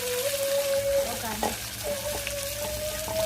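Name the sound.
tempering sizzling in oil for a Gujarati dish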